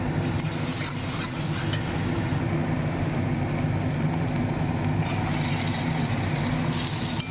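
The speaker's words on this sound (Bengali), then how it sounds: "এবার টমেটো দেবো, টমেটো দিয়েছি, নাড়াচাড়া করে নিয়ে জ্বালিয়ে নেব।" Tomatoes go into a pan of frying onion, ginger-garlic paste and spices and get stirred, giving a steady, even sizzle with soft scraping throughout, no voices.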